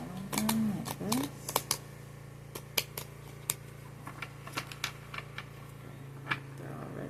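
Tarot and oracle cards are shuffled in bursts of crisp, irregular clicks and riffles over a low hum, with a brief voice near the start.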